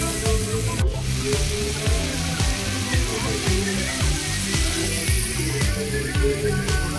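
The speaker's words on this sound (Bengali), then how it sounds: "সেটা আমি এর সঙ্গে দিয়ে ভালো করে একটু ভেজে নেব।" Turmeric, chilli and cumin powder with vegetable masala frying in hot oil for a potato and rohu fish curry, a steady loud sizzle with rhythmic scraping stirs throughout.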